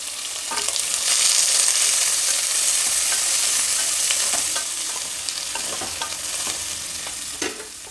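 Garlic, green chillies and chopped onion frying in a pan: a bright, steady sizzle with intermittent scraping spatula strokes, close up and without talk.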